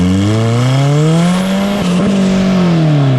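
A Honda K24-powered turbo Toyota MR2 pulls hard through the gears, the loud engine tone rising steadily, then a quick shift with a short whoosh and a renewed climb, heard alone and close.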